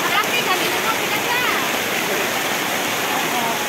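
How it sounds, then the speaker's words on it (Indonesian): Big waves crash with strong wind on a south-coast beach in Indonesia during high-wave warnings, a loud continuous roar of surf and gusts filling the whole stretch without pause. "Pantai Selatan ombaknya besar, anginnya besar"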